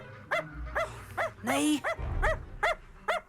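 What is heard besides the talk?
dog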